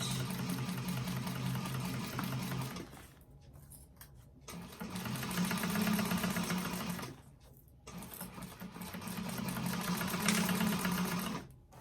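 A sewing machine runs a back stitch across zipper tape on a fabric bag, humming in three sustained, rapidly pulsing stitching runs separated by short quiet pauses. The sound is close and loud, with no talking.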